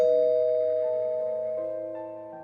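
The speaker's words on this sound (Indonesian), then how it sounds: "Hasan dan Saida dikejutkan oleh suara bel." A doorbell chimes once, a bright sustained ding-dong tone ringing out alone and slowly fading over a couple of seconds.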